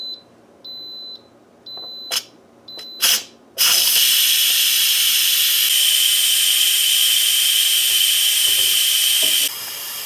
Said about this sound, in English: So once all your steam is released, that silver pin will drop.